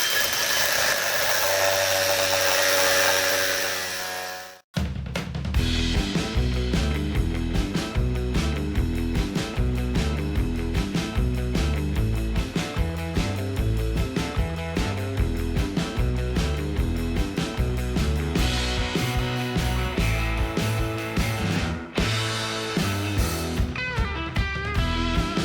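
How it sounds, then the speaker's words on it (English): An angle grinder cutting a part in half to make way for fiberglass, starting with a high whine that drops out, then a long, loud, continuous grinding with pulsing changes in pitch and brief breaks, close by and with no talking. "angle grinder at the ready"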